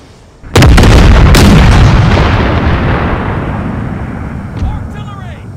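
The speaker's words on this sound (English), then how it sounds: "Artillery!" Artillery fire in the strategy game Total War: Empire 2, a sudden loud cannon blast followed by a second boom, then a long rumbling decay that fades slowly, with faint ringing tones near the end.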